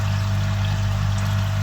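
Water churns steadily in a koi pond bio bin filter packed with media, a loud, continuous rushing wash over a low constant hum.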